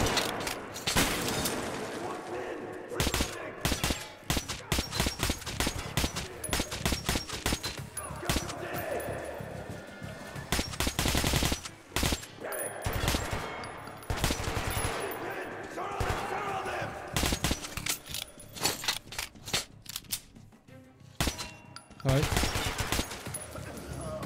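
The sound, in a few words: gunfire from a gun in the video game Metro: Last Light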